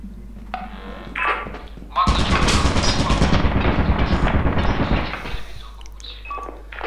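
An automated turret in Lethal Company opens fire in a sustained, loud rapid burst lasting about three seconds, with people talking before and after.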